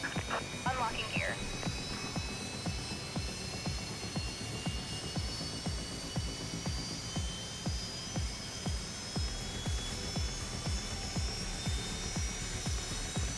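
A Boeing 757 engine in a flight simulator game hums steadily with high whining tones over a rapid, regular thumping pulse. The sound is continuous and even throughout, with a voice briefly audible near the start.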